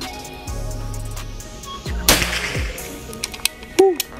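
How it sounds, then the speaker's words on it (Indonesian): A PCP air rifle, a Predator Tactical Pajero Gun Gen 5, fires a single loud, sharp shot that cracks out early on, followed by quieter clicks and handling noises. "Tembakan keempat mas ya."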